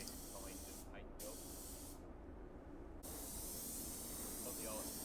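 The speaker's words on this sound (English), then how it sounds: "On the A panel it was important to just spray from the right angle" A spray gun hisses steadily as clear coat goes onto a Lotus Exige panel during a custom repaint, a continuous close spray with a few brief pauses.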